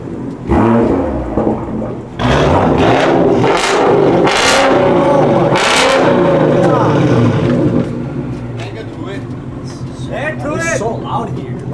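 Loud Ford Mustang engine revving and accelerating on a mountain road, a strong continuous roar with rising surges, people talking and shouting over it.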